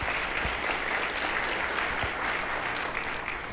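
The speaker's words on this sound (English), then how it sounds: "Give him a round of applause." Audience applause at a community forum, steady dense clapping filling the whole stretch at moderate volume, with a couple of brief low thumps and no talk over it.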